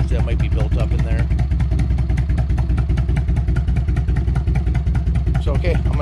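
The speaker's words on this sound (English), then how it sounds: "just let the bike sit there and idle" A 1998 Harley-Davidson Electra Glide Classic motorcycle idles close by, its rapid, loping engine pulses loud and continuous throughout.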